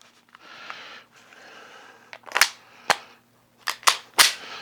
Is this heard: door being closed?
no